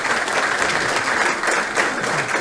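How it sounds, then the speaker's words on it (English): An audience at a festival anniversary tribute show applauds, a full, steady wash of clapping that fills the short clip without a break. "Will you give a big round of applause?"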